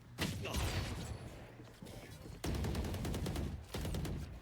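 Gunfire in the first-person shooter Valorant, with sharp rapid bursts of shots in several volleys, loud and close, while players talk over it.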